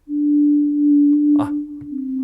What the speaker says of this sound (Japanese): サイン波形の音がね、実際サインが出てるわね、ここね。